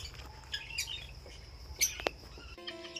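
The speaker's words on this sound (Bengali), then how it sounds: "এখানে একটু ঠান্ডাও আছে আর প্রচুর পাখি আছে এখানে" Birds call in a park in Agartala: several short chirps and tweets, near and moderately loud, over a low steady background hum, with one sharper squawk-like note midway.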